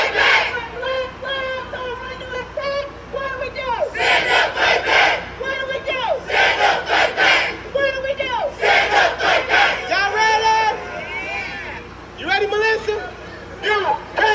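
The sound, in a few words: crowd at a protest rally, amped up over a bullhorn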